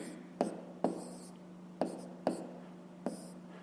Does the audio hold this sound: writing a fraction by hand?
yes